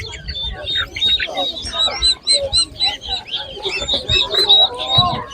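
Chickens cluck and chirp at a live poultry market in a Ukrainian village, many birds calling close by with bursts of voices mixed in.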